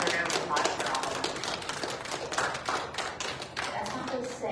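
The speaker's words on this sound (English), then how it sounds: "So yeah, another round of applause for all of them." Applause from an audience at an open mic in a public library, a crowd's scattered clapping at moderate distance, with voices mixed in.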